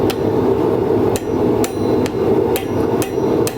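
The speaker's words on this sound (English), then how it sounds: "We're working over the far edge of the anvil." A blacksmith hammers hot metal over the far edge of an anvil while forging a spiral, sharp ringing blows landing about every half second over a steady roaring background, close and loud.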